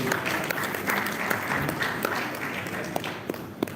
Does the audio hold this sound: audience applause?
yes